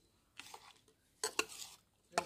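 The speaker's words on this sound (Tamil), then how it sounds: "நல்லா கலக்குங்க" Spoon stirring a temple-style panchamirtham fruit mixture in a vessel after milk is poured in, heard as a few short scraping clinks in separate bursts, fairly quiet and close with no talking.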